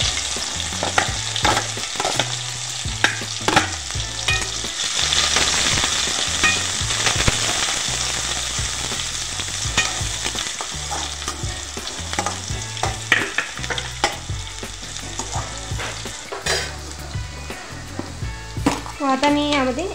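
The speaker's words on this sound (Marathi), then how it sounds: "तो आता मी यामध्ये कांदा टाकून घेणार आहे।" Chopped onion dropped into hot oil with cumin seeds sizzles and fries steadily while being stirred, with scraping spoon clatter throughout and a brief voice near the end, loud and close.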